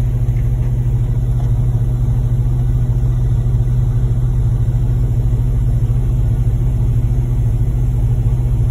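Concrete pump trucks run during a pour at a chicken barn construction site, giving a loud, steady, unbroken low engine rumble throughout with no talking.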